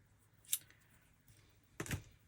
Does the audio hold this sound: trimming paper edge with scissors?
yes